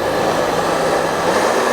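A hair dryer on its cool setting gives a steady, loud airy whoosh with a faint motor hum, blowing continuously without change.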